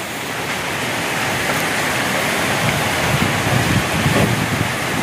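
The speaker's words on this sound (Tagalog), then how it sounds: "Ulan, hangin." Typhoon Uwan bringing heavy rain and strong wind, a loud, dense, continuous roar of downpour and gusts that swells toward the end, with no talking.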